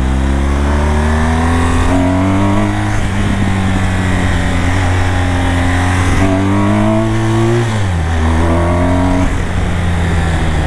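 BMW 1200 motorcycle engine droning loud and close during a wheelie, holding a steady high rev, briefly easing and surging again, then the pitch drops sharply before climbing back up.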